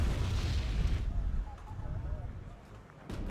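107mm mortar fire in the video game Wargame: Red Dragon, a loud booming blast that rolls off into low rumbling, then a second heavy thud near the end, with a voice talking over it.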